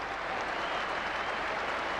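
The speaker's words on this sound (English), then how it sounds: "acknowledge the applause of his teammates on the balcony" Steady, dense applause from a cricket crowd at Lord's, greeting a batsman's Test century during England versus New Zealand in 1999; a continuous wash of clapping with no break across two seconds.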